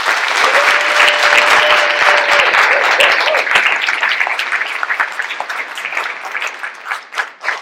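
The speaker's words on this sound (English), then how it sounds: "So give them one last round of" An audience applauds a dance troupe at a performance, loud dense clapping with a brief cheer early on, thinning into scattered claps toward the end.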